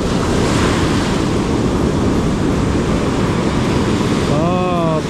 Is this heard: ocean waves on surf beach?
yes